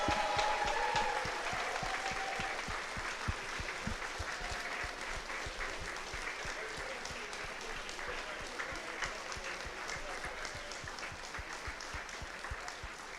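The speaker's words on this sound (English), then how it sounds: "one more round of applause" An esports finals crowd applauds steadily, a dense wash of many hands clapping at once that holds its strength throughout, with no voices standing out.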